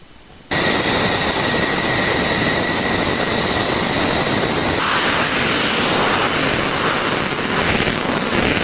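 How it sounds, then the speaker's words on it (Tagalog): An armed Israeli Air Force F-16 fighter jet roars in flight, a loud, steady, broadband jet rush that starts abruptly and holds for several seconds with a slight shift in tone midway, no voices. "kita sa aktwal na video ang paglipad ng armadong F-16 ng Israel Air Force"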